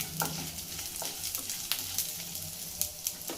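Chana dal and urad dal fry for upma without oil as a spoon stirs them in the pan, with a soft, steady sizzle and light clinks of the spoon at intervals.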